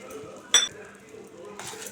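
A spoon stirs buttered popcorn seasoned with pepper powder and salt, giving a sharp clink against the pan midway and a brief scraping rustle near the end, with quiet background in between.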